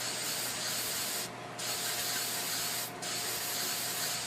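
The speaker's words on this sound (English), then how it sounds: "spray it on all around on just the foliage" Spray paint hisses steadily onto tree foliage, a close continuous spray with two brief pauses where the nozzle is released before spraying resumes.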